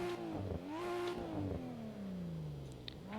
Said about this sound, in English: It sounds really weird with the RB26, but I love the sound of this engine.